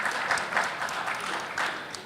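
An audience claps in applause at a business summit, a dense steady patter of many hands heard close and fairly loud, with no voices over it.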